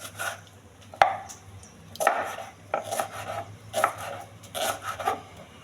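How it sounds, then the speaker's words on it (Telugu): Raw banana is chopped into small pieces for frying, giving a series of knife thuds on a cutting board, uneven in rhythm, close and fairly crisp, with no talking. "చిన్న ముక్కలుగా కట్ చేసుకోవాలండి"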